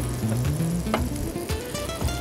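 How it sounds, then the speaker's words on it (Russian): Food sizzling and frying in a dry pan without oil while breakfast is cooked, a steady crackling hiss running throughout with faint stirring clinks, no voices over it. "Пока у нас все это жарится"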